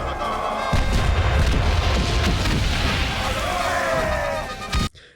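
Artillery and machine guns firing in a WWI video game, a dense, loud wall of booms and rapid bursts with battlefield noise throughout, cutting off abruptly near the end.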